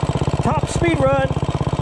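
A Predator 212 small engine fitted with a cam and 1.2 ratio rockers revs hard at full throttle during a top speed run, giving a steady rapid pulsing drone throughout while a voice talks briefly over it.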